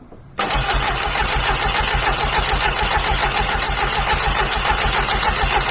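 A turbocharged track car with an Ignitron ECU fires up for the first time: a short crank, then the engine catches abruptly and settles into a loud, steady, rough idle close by.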